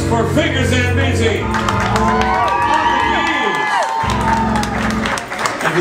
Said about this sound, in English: a round of applause for Fingers and Beezy.